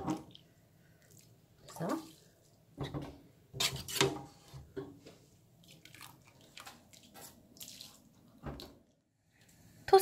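Blanched hijiki seaweed is scooped out of a pot of water in a home kitchen. Wet splashes, drips and clatters come in scattered bursts separated by quiet gaps, and a voice speaks briefly.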